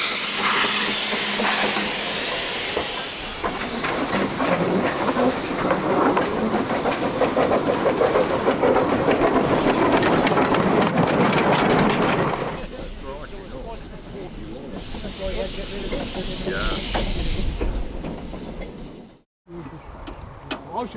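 A preserved steam locomotive on a British heritage railway hisses loudly with steam bursts, with rail rumble and clatter underneath and someone talking over much of it.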